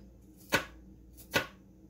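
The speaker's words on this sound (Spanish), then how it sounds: "Los ajos los voy a picar finamente" Two crisp knife strikes land on a cutting board about a second apart as garlic is finely chopped for homemade chorizo, close and clear over a quiet room.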